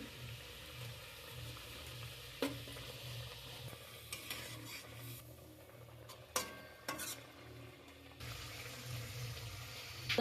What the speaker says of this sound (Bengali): মাছগুলো ভাজা মাছগুলো আমি দিয়ে দিচ্ছি